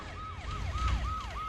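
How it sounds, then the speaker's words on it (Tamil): An emergency siren in a Tamil comedy film scene wails in repeated rising-and-falling sweeps, about four cycles in quick succession, moderately quiet as if heard from some distance over a low background rumble. "சைலன்ஸா பேசுறதுக்கு சைரன் அலறுது பாரு."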